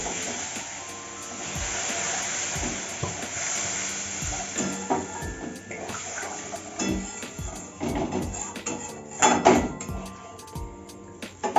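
Water poured into a hot spiced gravy for a pointed gourd kofta kalia sends up a steady hissing sizzle and steam, with bubbling, clinks and a louder burst near the end, close and without talking.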